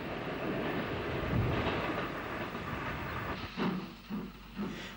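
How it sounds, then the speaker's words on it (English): Steam locomotive Mogul No. 99, King George VI, rolls into Dundalk station from the south with a return excursion train, giving a steady rumbling, hissing rail noise with a few rhythmic clanks near the end. "Mogul number 99, King George VI, has made it as far as Dublin, seen here entering Dundalk from the south with a return excursion to Belfast."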